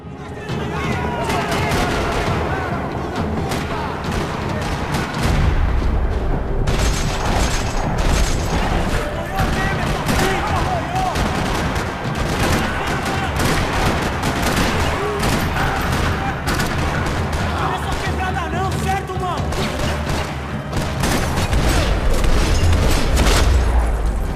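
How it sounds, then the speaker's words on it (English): Dense gunfire in a parking lot in the video game Max Payne 3, continuous rapid shots and booms crackling for the whole stretch, loud and close, with a voice heard at times beneath the shooting. "Another parking lot rattling with gunfire."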